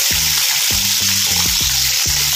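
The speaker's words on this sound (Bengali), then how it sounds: "তো এবার আমি এগুলোকে ছেড়ে দিচ্ছি তেলের মধ্যে" Koi fish coated in turmeric fries in hot oil with a loud, steady, close sizzle, and there are a few low periodic knocks from the pan underneath.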